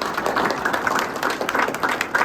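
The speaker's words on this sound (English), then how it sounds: "Please have a huge round of applause for Bhrigu." A live audience at a talk on AI for musicians gives a round of applause for a guest composer, with a steady, dense wash of clapping at moderate loudness and no talk over it.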